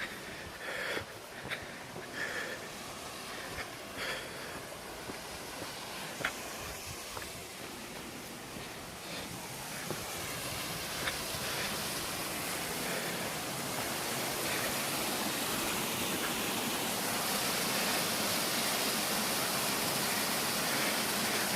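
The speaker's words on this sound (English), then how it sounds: "I hear water flowing." Water flows steadily in Death Valley, a soft even rush that grows slightly louder and fuller over the second half, heard alone at low level.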